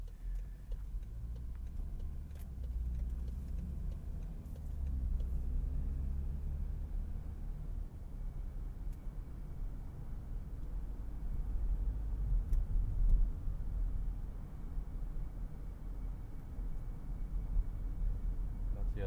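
Steady low engine and road rumble inside a 2014 BMW X3 with a 2-liter twin-turbo engine, heard from the cabin while driving, with a faint occasional ticking over the drone and no one talking.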